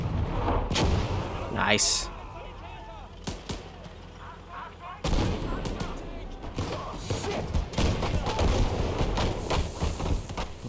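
Gunfire and artillery crack and boom in the Call to Arms – Gates of Hell war game. Several heavy blasts and sharp shots land at irregular intervals over battlefield rumble, and a voice speaks briefly.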